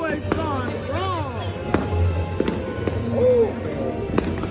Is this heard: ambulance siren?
no